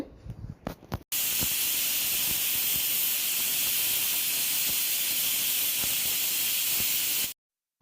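A pressure cooker in a home kitchen vents steam after its whistle: a few brief clatters, then a loud, close, continuous hiss lasting about six seconds before it cuts off abruptly.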